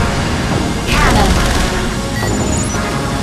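Cannon weapon firing in the Wipeout Fury HD racing game, a loud burst near the one-second mark over constant dense engine and race noise, with fainter rapid crackles and a high synthetic tone later.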